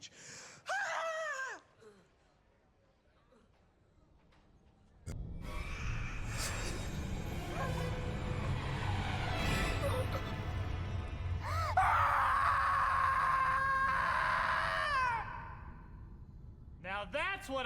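A woman screaming in an episode of the TV series Supernatural, loud, drawn-out shrieks with gasps and shouting, following brief speech and a quiet pause.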